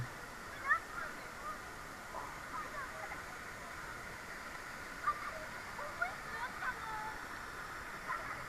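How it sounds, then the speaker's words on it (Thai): Lan Rak waterfall in Nakhon Nayok, with several tiers, gives a continuous broad rushing hiss. A few faint knocks stand out, and a voice is heard briefly. "น้ำตกมีหลายชั้นเลย"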